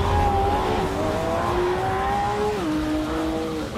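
A roughly 500-horsepower car races a lighter Porsche, its engine roaring loud and steady with rising and shifting revs and a brief drop in pitch, close and continuous without speech.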